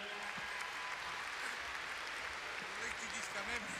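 Steady, dense crowd applause fills the whole stretch at the Jumping International de Bordeaux, honoring Daniel Brun, creator of the pony derby, with a voice speaking over it now and then.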